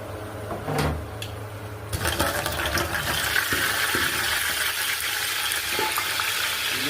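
Mustard seeds splutter and crackle in hot coconut oil as fish-head curry is started, a steady sizzling hiss with scattered pops that rises after a clattering start.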